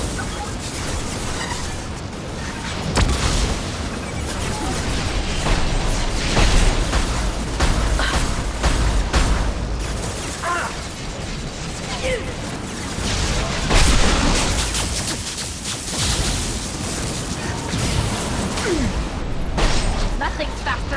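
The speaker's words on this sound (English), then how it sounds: "Watch out, flashbang!" A flashbang goes off amid chaotic Mass Effect 2 combat, with loud bursts and booms layered over continuous gunfire and battle noise, dense and close throughout.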